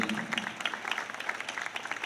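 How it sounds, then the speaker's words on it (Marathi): Crowd applause at a political rally, a steady wash of many hands clapping with sharp individual claps throughout, fairly distant and sustained with no talking. "जोरात टाळ्यांचा गडगडाट झाला पाहिजे टाळ्या वाजत राहिल्या पाहिजे"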